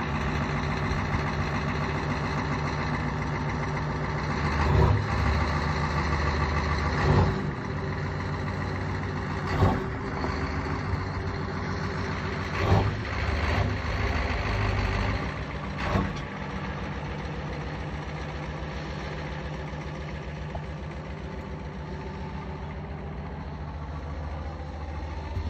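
A diesel engine idles steadily in the morning after a cold start, a loud, continuous low rumble with faint periodic knocks and no voices.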